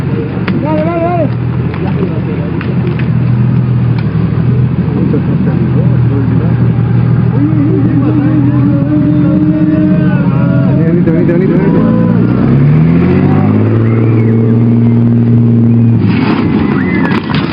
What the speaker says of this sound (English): he got stuck in the mud and tried to accelerate